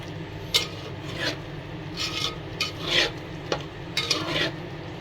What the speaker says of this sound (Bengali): এই পানিটুক দিয়ে আমি কষিয়ে নিব ভালো করে।